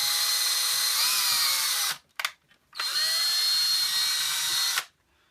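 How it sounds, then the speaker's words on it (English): A power drill drills out a rivet on a custom 1/50 scale Cat 336 and 323 excavator model. It whines loudly and steadily in two long bursts split by a short stutter, then stops. "Got to drill one more rivet out."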